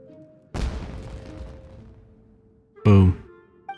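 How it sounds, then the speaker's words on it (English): Fireworks bursting in the video game Genshin Impact: a sharp blast followed by a long crackling, fizzing tail, then a second loud, short boom near the end. "Was that an explosion? It sounded like fireworks."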